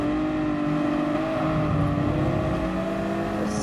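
A race car engine in the Gran Turismo Sport video game holds a steady, loud drone at high revs for a few seconds, with a slight rise and fall in pitch and no speech over it.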